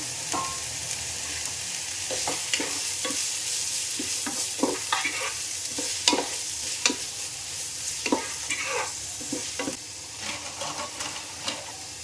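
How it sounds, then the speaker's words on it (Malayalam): Sliced onions, four of them, sautéing in ghee in a pan for beef biryani, a steady close sizzle with repeated scraping stirs of a spoon through the onions, no talk. "നാല് സവാള അരിഞ്ഞത് ഇട്ട് നമുക്ക് വഴറ്റാം"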